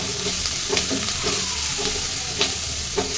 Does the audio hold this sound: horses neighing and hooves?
no